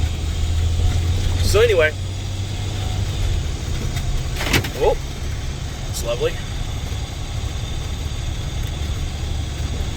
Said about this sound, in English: I'm going to apologize for the stupid sound of my truck